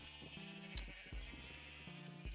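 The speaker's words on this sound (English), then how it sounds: "I pulled these 2 sheep from a jungle way over there." Sheep bleat in the RetroCraft Minecraft video game, three short wavering calls spaced evenly and heard close and clear over a steady background hum.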